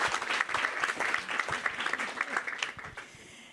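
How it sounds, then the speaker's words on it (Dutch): A crowd claps steadily in warm, continuous applause for a few seconds, tapering slightly toward the end. "Een applaus, hartelijk welkom."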